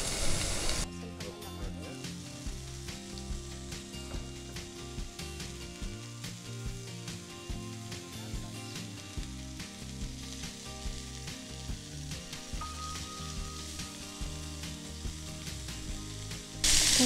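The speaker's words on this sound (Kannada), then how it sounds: "ಓಕೆ ಸೊ ಇದು ಕೂಡ ಫ್ರೈ ಆಗ್ತಾ ಬರ್ತಾ ಇದೆ" Chicken shallow frying in oil, a continuous sizzle layered under a rhythmic mechanical ratcheting and clattering that runs throughout.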